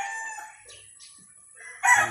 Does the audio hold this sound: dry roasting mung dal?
no